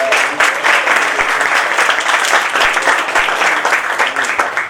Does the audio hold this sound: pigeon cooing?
no